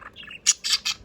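A pet budgie chirps and squawks close by, a quick run of short, bright, scratchy calls ending in three louder shrill bursts, with no talk over them.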